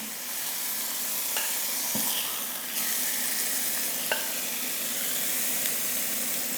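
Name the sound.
pork chops frying in a pan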